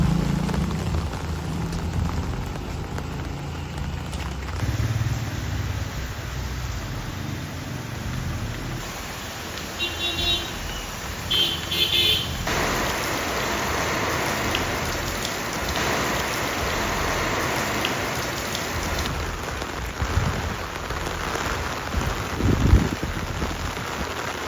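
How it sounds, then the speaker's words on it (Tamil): Heavy rain pours steadily during Cyclone Ditwah, a dense continuous hiss with patter on surfaces and a faint high whine, with a brief low thump near the end. "இனி இன்னையிலேருந்து நாளைக்கு வரைக்கும் பெய்யும்னு நினைக்கிறேன்."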